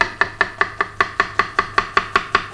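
An onion is chopped with a knife on a board, about thirteen crisp, evenly spaced strokes in a quick steady rhythm, close and clear with no talking.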